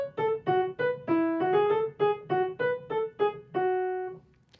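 Piano plays a Bach subject in the right hand alone, a clear single melodic line of about a dozen distinct notes in a steady, lively rhythm, close and bright, fading into silence at the end.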